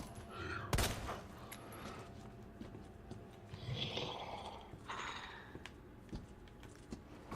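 Gunfire from the video game Resident Evil 2, with one sharp loud shot near the start and a few softer shots and impacts later, over low game ambience.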